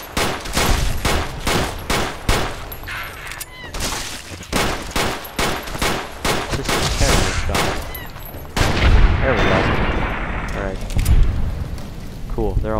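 Rapid bursts of gunfire in Fallout New Vegas as enemies are shot down, a dense volley of close, loud shots that thins into scattered rounds and clatter, with someone talking over parts of it.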